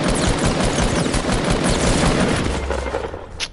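Sustained AK rifle fire in a video game, a loud, continuous burst of rapid automatic shots rattling almost without pause before tapering off at the end, with no talk over it.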